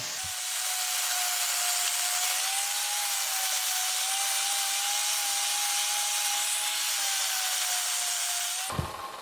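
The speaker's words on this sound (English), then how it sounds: "I use my belt grinder to give the handle some nice curves so it's comfortable in the hand" A belt grinder shapes the handle of a parang made from a saw blade, giving a steady abrasive whir with a faint whine that runs for about eight seconds before it cuts off sharply.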